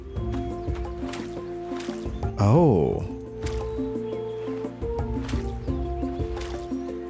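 Crops being watered in the farming game Roots of Pacha, a short gurgling, squishy liquid pour rising over steady background music, with someone speaking briefly.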